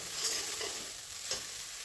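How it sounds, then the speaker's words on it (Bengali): Spice paste for an egg curry hisses and sizzles steadily in a pan after water is added, a dense, close frying crackle with a couple of brief louder flares and no talking. "মশলাটাতে জল দিয়ে দিলাম"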